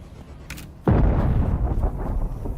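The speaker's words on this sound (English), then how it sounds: "A lot of explosions in this area." Video game explosions in Dune Awakening: a sharp crack is followed by a deep, loud blast that rolls on into a long, rumbling roar as debris settles.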